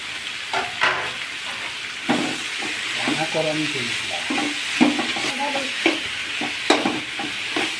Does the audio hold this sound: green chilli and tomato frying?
yes